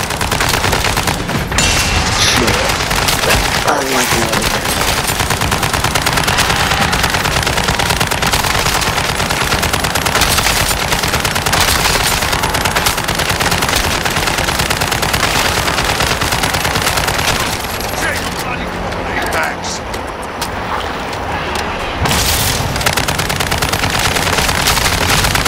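Nonstop rapid gunfire fills Modern Warfare 3 Zombies in a dense, loud, continuous barrage of automatic bursts, easing only briefly before resuming.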